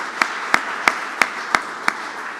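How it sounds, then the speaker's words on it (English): Slow, evenly spaced claps at a freight infrastructure roundtable, about six sharp strikes over a soft background, like a light smattering of applause for panelists. "A big round of applause really for all the panelists and all the moderators."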